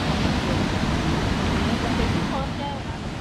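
Strong river rapids in the Amazonas rainforest near a waterfall, a dense continuous rushing roar of fast current, loud and unbroken.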